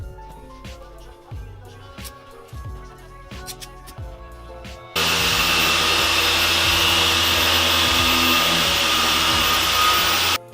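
A power polisher buffs the paint on a car, starting midway as a loud, steady whirring roar that replaces the quieter musical backing heard earlier.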